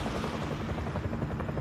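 A helicopter in the video game Call of Duty: Warzone thuds with rapid, steady rotor chopping, moderately loud and continuous throughout, with no talk over it.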